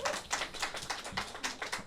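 Audience applause at an award ceremony for regional cultural center commendations in Incheon, a steady patter of many hands clapping at moderate distance, continuous for about two seconds with no talk.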